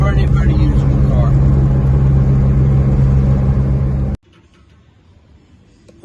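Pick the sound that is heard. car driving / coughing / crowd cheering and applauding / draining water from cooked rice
car driving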